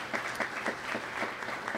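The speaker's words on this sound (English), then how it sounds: "So just a special little round of applause for all the volunteers." Brief, soft applause from a church congregation at an Easter worship service, light scattered clapping from a modest crowd, fairly distant.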